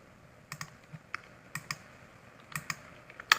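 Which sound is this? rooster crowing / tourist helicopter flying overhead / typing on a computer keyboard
typing on a computer keyboard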